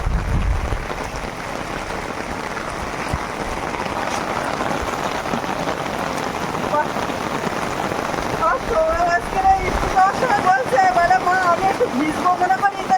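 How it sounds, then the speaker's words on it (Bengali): Heavy rain pours steadily in the Sundarbans, a dense, even hiss of drops on surfaces that continues throughout while people talk. "বৃষ্টি পরপর যেন বাড়ছে"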